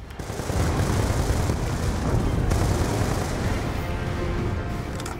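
Continuous loud battle din from Call of Duty: Black Ops 2, with grenade blasts and gunfire merging into a dense, sustained rumble that barely lets up for the full stretch.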